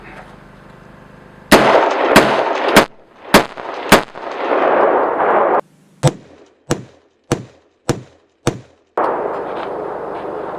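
Rifle fired with a three-prong flash hider at night, first a few loud sharp unsuppressed cracks with rumbling tails, then a quicker run of shorter, duller suppressed shots, all close.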